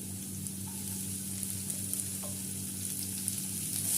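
Chopped onion fries over a medium-high flame for chira polao, a dense, even sizzle held close and steady, with a low hum beneath it and no speech.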